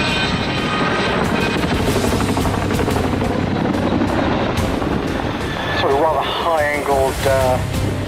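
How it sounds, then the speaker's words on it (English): Chinook twin-rotor helicopter performing a handbrake turn at an air display, a loud steady rotor thudding and engine roar, with a commentator speaking over the noise. "Chinooks can do a handbrake turn."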